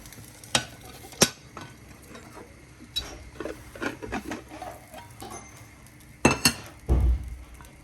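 Egg and cheese roti frying in a pan and being flipped: a low, steady sizzle broken by sharp metallic clinks and taps of a utensil, then a heavier thump and a burst of frying near the end, with no talking.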